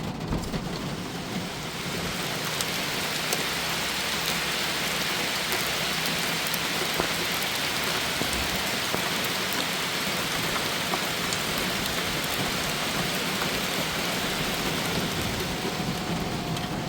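Heavy rain in a forest hisses steadily for the whole stretch, dense and loud, drumming on a nearby car with its window open, no voices.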